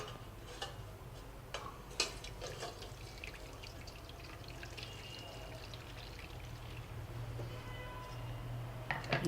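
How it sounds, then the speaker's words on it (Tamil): Water trickling and pouring softly into a container of ground tamarind and ginger paste, with scattered small clinks and taps over a low background hum. "கொஞ்சம் கூட இதில் தண்ணி விட்டு விட்றேன்"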